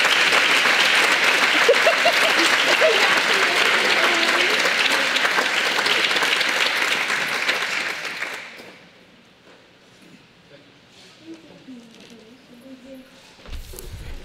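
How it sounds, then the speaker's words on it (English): A large audience at an annual YMCA awards dinner gives dense, steady applause for about eight seconds, then it fades out into quiet room murmur and low voices. "Please join me in congratulating Lincoln Hamlet."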